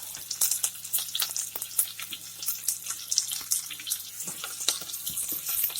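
Green chili, grated ginger, garlic and cinnamon fry in hot oil for a Nellore fish curry, giving a dense, steady crackle of popping bursts with a low hum underneath.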